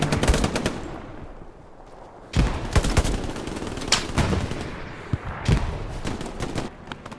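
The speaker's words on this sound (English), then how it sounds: "I'll get that guy on the MG" Machine gun fire in the World War II shooter game Hell Let Loose, loud repeated bursts of rapid shots with sharp cracks and echoing tails, separated by brief pauses, close and dominant.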